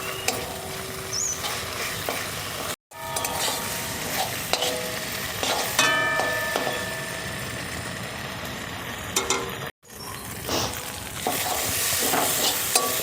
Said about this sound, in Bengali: তেল ছাড়া পর্যন্ত কষিয়ে নেব।